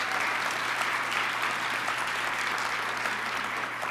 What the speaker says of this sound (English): Can you stand up and everybody give you a cheer for volunteering today?